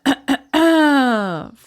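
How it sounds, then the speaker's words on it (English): A voice performing Eeyore, the donkey, giving two short, sharp coughs followed by a long, drawn-out groaning vocal sound, close and loud. "Eeyore coughed in an impressive way and began to speak"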